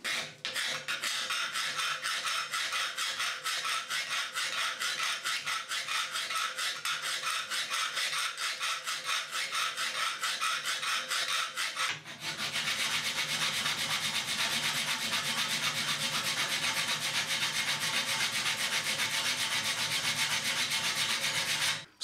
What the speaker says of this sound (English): then it needs draw filing